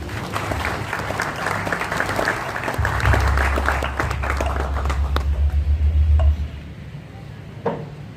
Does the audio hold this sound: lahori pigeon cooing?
no